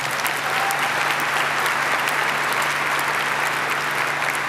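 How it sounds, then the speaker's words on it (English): Sustained audience applause at a December commencement ceremony, a dense steady clapping from a large crowd that fills the whole stretch without pause. "Can we give them a second to give them a round of applause?"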